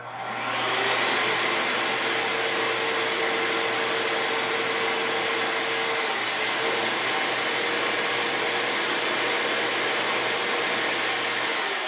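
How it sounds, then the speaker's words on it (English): Pet hair dryer blowing on a fluffy doodle dog, a loud, steady high-pitched whoosh and motor whine that holds constant for the whole stretch, with a slight shift in tone midway and no talking. "whenever you get a dryer, there's hot and then there's cold here"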